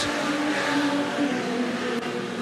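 Race car at a regional track event, a loud continuous engine roar holding close throughout, with a brief dip near the end as it passes.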